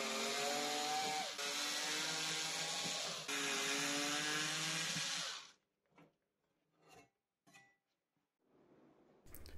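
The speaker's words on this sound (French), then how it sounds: "Je dévisse la plaque autour du conduit." A power driver unscrews the plate around a pellet stove flue pipe. It whirs loudly and steadily for several seconds, then stops, followed by a few faint handling taps and clicks.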